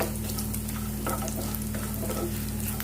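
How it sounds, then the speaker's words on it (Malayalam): Cashews and raisins fry in hot fat in a pan, giving a steady close sizzle with stirring scrapes and faint clatter throughout, with no voices. "ഇനി നമുക്ക് ഇതിനകത്ത് അണ്ടിപ്പരിപ്പും കിസ്മിസും, അതായത് മുന്തിരി, അതും കൂടി ഇട്ട് വറുത്തെടുക്കാം"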